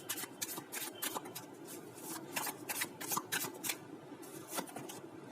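Tarot cards shuffled for a pick-a-card reading, a close series of quick riffling bursts in an uneven rhythm, soft and crisp with no voices over them.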